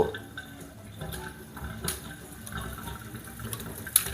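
Filtered water runs from a Toray Vino SX606V faucet-mounted filter into a sink, a soft steady trickle with a brief clink near the end.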